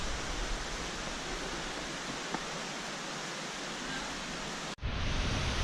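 Steady broadband rush of the fourth waterfall along a hiking trail of waterfalls in Corupá, Santa Catarina, a constant roar heard from nearby with a brief cut near the end.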